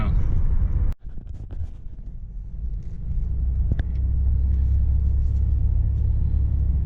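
Low steady rumble inside the cabin of a 2002 Buick Park Avenue under acceleration, with engine and road drone building gradually and a brief thump near the start.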